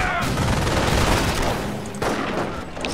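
Continuous loud machine gun fire and battle din in the Company of Heroes video game, a dense, unbroken rattle with a brief dip before it surges again.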